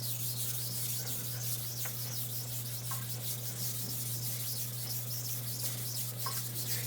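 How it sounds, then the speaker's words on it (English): A knife is stroked over a 1000-grit whetstone, giving a continuous gritty rubbing and scraping with a steady low hum beneath, close and moderately loud. "technically we're still sharpening. We're definitely removing metal from the edge."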